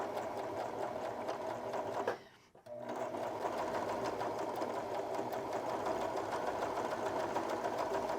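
Sewing machine stitching the curves of a reusable cloth pad, a fast steady mechanical whirr close by, briefly pausing once as the fabric is turned, then running on evenly.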